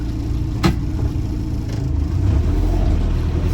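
Land Rover Lightweight with a recently rebuilt gearbox, its engine running at a steady low rumbling idle, close and continuous, with one brief sharp knock early on.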